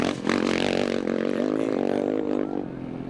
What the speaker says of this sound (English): Love the noise of these bikes coming through